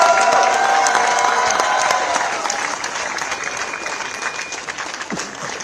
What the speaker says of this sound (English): Let's give a big round of applause to all the volunteers.